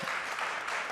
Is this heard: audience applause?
yes